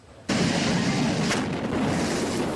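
A loud explosion during the Park Fire wildfire in Butte County, a sudden broadband blast that breaks after a brief quiet moment and then sustains as a dense, roaring rumble for the rest of the clip.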